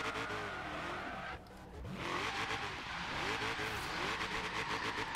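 A car engine in the racing game Forza Horizon 3 revs and accelerates over about five seconds, with rising tones, a short dip, and tire squeal or skidding near the middle.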